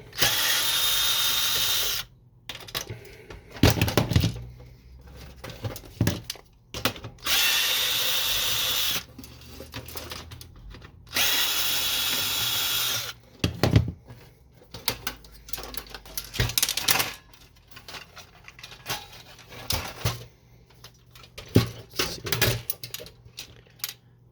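Power screwdriver backing screws out of an HP LaserJet 1020 printer, with three sustained whirring bursts of two or three seconds each, close and loud, then a stretch of clicks, rattles and plastic handling noises.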